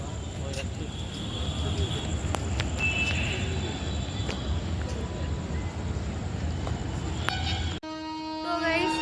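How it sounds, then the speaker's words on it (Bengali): A train in Kolkata rumbles along steadily with a brief high tone near the end, while voices talk faintly underneath. "সো এই ট্রেনটাতে আমরা এলাম"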